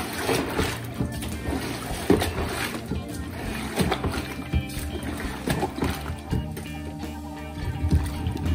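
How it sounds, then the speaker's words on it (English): Water sloshes and splashes rhythmically as vegetables are washed by plunging a drainer up and down inside a Strucket bucket, a busy, fairly loud churning with repeated surges and spatters, close by. "By going up and down, it's going to agitate that water"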